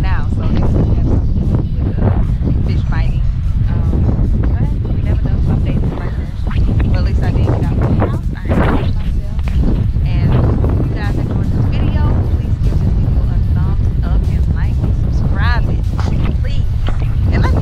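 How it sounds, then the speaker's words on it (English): Strong wind buffets the microphone in constant rumbling gusts beside the Chattahoochee River in Franklin, Georgia, and a person talks intermittently beneath the roar. "It's a little windy now"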